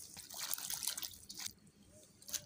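Hand-washed vegetables sloshing in a basin of water in a home kitchen, with brief splashes and drips in bursts, fairly close and soft, alone without talk.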